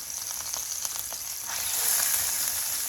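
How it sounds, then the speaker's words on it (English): Beef hamburger steak patties browning in olive oil in a hot pan, a soft steady sizzle and crackle of frying that swells slightly midway, with no talking. "all we're doing is we're just browning the edges"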